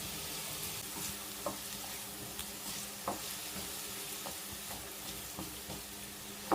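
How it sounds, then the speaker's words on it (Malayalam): Cut beetroot frying in hot coconut oil, with a faint steady sizzle and soft scraping stirs that recur every second or so, quiet and close. "വെളിച്ചെണ്ണ ചൂടായി വരുമ്പം കട്ട് ചെയ്ത് വെച്ച ബീട്രൂട്ട് ഇട്ട് കൊടുക്കുക."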